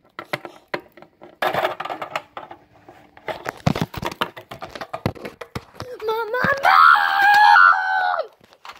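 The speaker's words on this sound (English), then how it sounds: "I don't want you screaming." A child screams in a park, sharp bursts mixed with clattering taps and voices, ending in a long, loud, high wavering scream.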